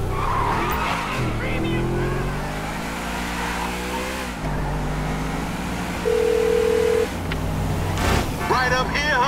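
Convertible car driven hard in GTA 5, engine droning steadily with skidding tire noise and a sustained tonal beep, under ongoing game dialogue and music.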